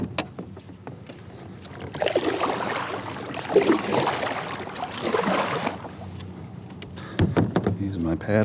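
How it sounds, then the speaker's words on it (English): A Hobie kayak is pushed off from shore with a paddle, scraping and sloshing water in a rough surge over several seconds, close by, with a person speaking around it. "Use my paddle to kick off from shore just a little bit."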